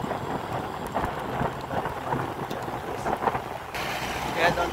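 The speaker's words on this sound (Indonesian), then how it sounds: "ini hujannya sangat deras sekali" Heavy rain pours down steadily during a camping trip at Lake Lut Tawar in Takengon, Central Aceh, a dense close hiss of drops with low rumbling underneath and no pause from start to end.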